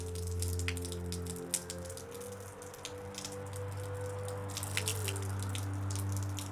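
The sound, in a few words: water dripping from a leaking roof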